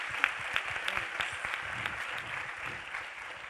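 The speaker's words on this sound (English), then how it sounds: "let's do a quick round of applause for NSLDN for hosting us and for Alex for sharing the film." Applause from the audience at a documentary premiere in Washington, D.C., steady clapping of moderate loudness that slowly fades toward the end.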